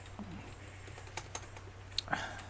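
Keystrokes on a computer keyboard as a spreadsheet formula is typed, a sparse run of separate clicks with a couple of sharper taps near the end over a steady low hum, no talking.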